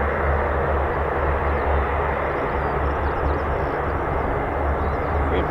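A US Air Force heavy military aircraft flies circuits, giving a steady, loud, continuous engine roar that holds without break throughout.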